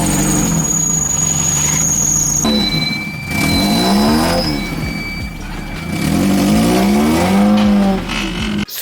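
A Mazda Miata NA engine from a totaled car, running loudly and steadily, rising and falling in pitch as it revs between idle and higher speeds, with no voices.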